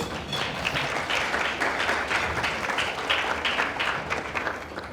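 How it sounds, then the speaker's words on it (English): Sustained applause from an audience at an investor information evening on property and mortgages, a dense, steady wash of many hands clapping at even loudness for the full stretch, with no voices over it. "Would you give them a round of applause, please?"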